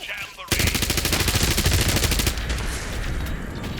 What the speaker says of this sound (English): Okay, I'm genuinely just sitting here. And they're shooting me.